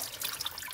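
Warm tap water runs briefly over a reusable piping nozzle in a kitchen sink, a short hissing splash of flowing water.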